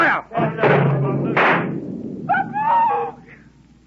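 A cannon fires in an old-time radio drama set in the early French Republic, a loud broadband boom and rumbling burst up close, followed by a second thudding blast and then a shouting voice.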